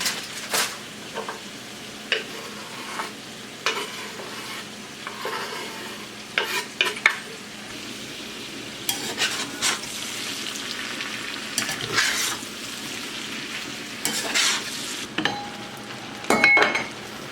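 Onions sizzling in a pan on an outdoor grill on a breezy day, with repeated scraping stirs and metallic clinks of a utensil against the pan over the steady frying.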